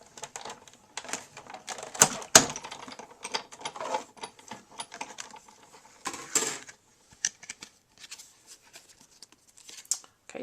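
Paper and a cutting plate are cranked through a manual die-cutting machine, producing irregular clicking, creaking and ratcheting crunches with a few sharper snaps, close and moderate.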